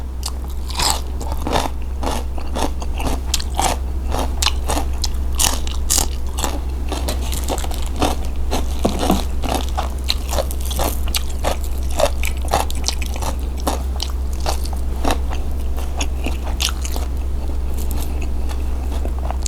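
Crunchy chewing and biting of Thai beef tendon salad with chili, a steady run of close, crisp crunches throughout with no talk.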